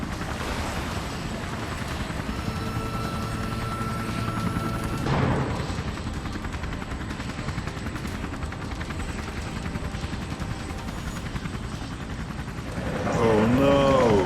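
A cartoon rescue helicopter flies with a steady, loud rotor drone that runs throughout, joined near the end by a rising whine.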